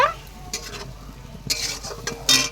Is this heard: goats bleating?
no